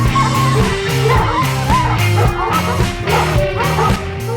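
An alabai guard dog barks repeatedly during protection training, sharp yelping barks coming in a quick, fairly regular rhythm up close and loud, with some whimpering between them.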